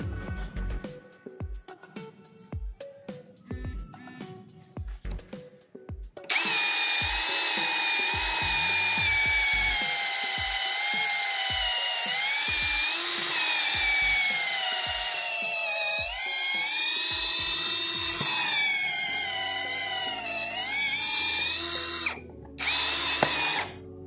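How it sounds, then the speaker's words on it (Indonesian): A Kenjiro 21V brushless cordless drill running at top speed in drilling mode drives an auger bit into wood. Light clicks and knocks come first, then a loud, sustained high whine that wavers in pitch under load for about seventeen seconds before stopping abruptly. "Berikutnya mata bor auger di media kayu yang sama."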